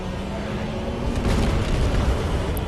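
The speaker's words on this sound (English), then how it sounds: "he will like just spew fire into this tunnel" A dragon in Dark Souls spews fire down a tunnel, a steady loud roaring rush that swells and thickens midway through, continuous with no break.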